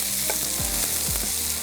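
Onions frying in oil, a continuous loud hiss of sizzling with a couple of soft scraping stirs, no voices present.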